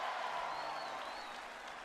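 A record crowd at WWE SmackDown applauds in a steady, even wash of clapping that sounds distant and quiet, with no single claps standing out.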